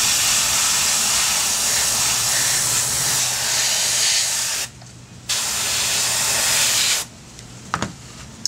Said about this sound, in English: then I can airbrush for a while in peace without a noise going on